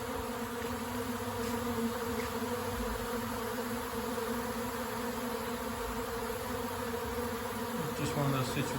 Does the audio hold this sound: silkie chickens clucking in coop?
no